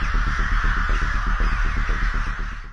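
Large flock of crows swarming over homes, cars and streets in Kyoto, Japan, a dense, continuous chorus of overlapping caws pulsing rapidly and loudly with no pause.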